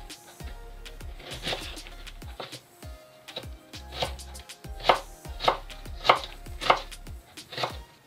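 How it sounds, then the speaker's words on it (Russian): A knife chops an apple into cubes on a cutting board, sharp knocks coming in irregular bursts, some louder strikes near the end, with no voices. "Яблоко нам нужно очистить от кожуры, а потом нарезать кубиками."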